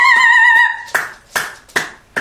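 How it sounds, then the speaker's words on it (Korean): Close, sharp hand claps keep time with a song, four of them in a steady beat, following a clear whistled melody in a home with a talking parrot. "다 같이 박수"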